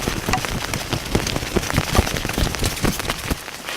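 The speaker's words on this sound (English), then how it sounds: "You can also give it a good shake as well and watch the rain slide off." Rainwater is shaken off a folding automatic umbrella, giving a dense spatter of droplets with quick crackly bursts and rustling canopy fabric, close and fairly loud for a few seconds.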